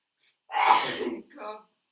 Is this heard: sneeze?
yes